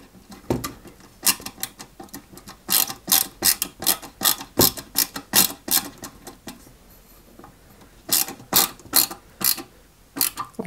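Screwdriver ratcheting screws into a Toyota Supra 1/8 scale model kit, a close series of quick clicking bursts in uneven groups, with brief pauses between turns.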